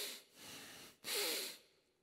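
A human voice imitates heavy snorting breath through flared nostrils: two close, fairly quiet breathy bursts, the second stronger and rougher, with no words spoken.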